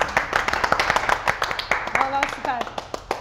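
A few people clap in short, uneven bursts beside a newly bought car, with talk running over the claps, some of it in a high, excited tone.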